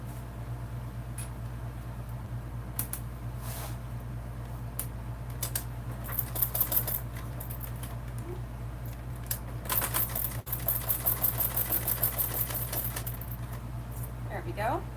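A sewing machine topstitches 1/8 inch from the edge and along the fold of a Swoon Maisie bag, its steady motor hum broken by bursts of rapid ticking stitches, with faint clinks alongside.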